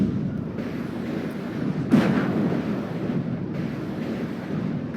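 Artillery fire in the real-time strategy game Warno during a 10v10 multiplayer match: a single muffled boom rises out of a steady windy, rumbling battlefield ambience, with no talk.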